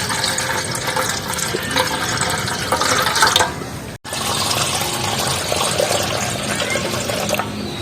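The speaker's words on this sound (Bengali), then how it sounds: "এই আলুর কষটা আমি সব ধুয়ে ধুয়ে পরিষ্কার করে" Potatoes being washed in a bowl of water to rinse off their starch, with steady splashing, sloshing and running water that continues unbroken apart from one brief pause, close and fairly loud with no talking.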